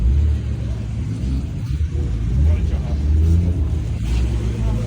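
A drift car in Mykolaiv, its front end carrying fresh welding repairs, pulls away with a low, rumbling engine note that swells and dips, heard close up under some talking.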